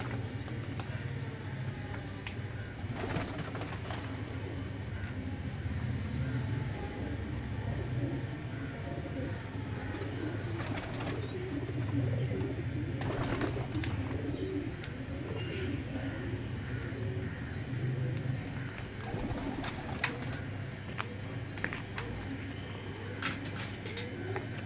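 Pigeons and their young chicks in a cage give soft, continuous cooing over a steady low hum, with a few brief sharper sounds scattered through.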